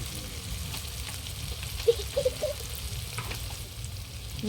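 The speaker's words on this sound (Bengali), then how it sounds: "মশলাটা হালকা ভাজা করে নিলাম এবার হলুদ গুঁড়ো দিচ্ছি দিয়ে দিচ্ছি লঙ্কার গুঁড়ো" Turmeric and chili powder fry in a pan of oil with tomato for Bengali egg curry, a soft steady sizzle with a few faint stirring clicks, close and without talk.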